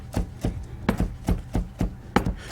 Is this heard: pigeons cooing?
no